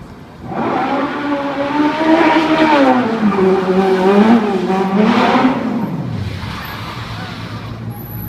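A stunt car drives onto a theme park stunt show set, its engine revving loudly and steadily with rising and falling pitch for several seconds before easing off, a second car twin standing by.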